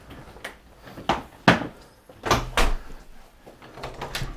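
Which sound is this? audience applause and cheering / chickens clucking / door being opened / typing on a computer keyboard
door being opened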